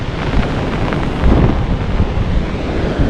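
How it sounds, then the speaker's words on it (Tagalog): Strong wind blows across an open rice paddy, buffeting the microphone in a loud, continuous low roar with gusting surges and no speech. "Pagpasensya nyo po, malakas po yung hangin."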